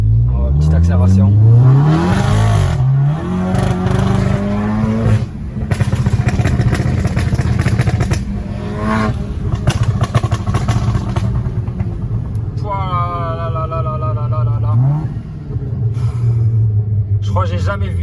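A Stage 3 Golf 7 GTI tuned to 425 hp accelerating hard, its engine note sweeping up through gears with loud rising drones and crackles, close by, while people talk over it.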